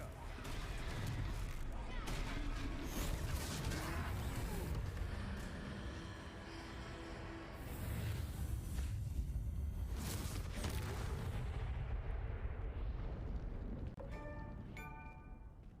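A Confringo fire spell bursts in a Hogwarts Legacy troll battle, a dense loud blast and rumble under game voices and effects, fading to quieter tones at the end.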